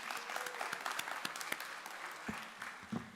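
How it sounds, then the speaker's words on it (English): Audience applause at a human rights film festival at Morehouse College, honoring the executive director: steady clapping from a room of people, fairly quiet with a few sharper claps, with a little talk at the end. "We got to clap for her before we do anything else."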